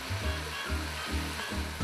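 Pickled garlic and sliced onion stir-fried in a pan, giving a continuous sizzle with rhythmic stirring swishes about every half second, close and fairly loud, with no voices.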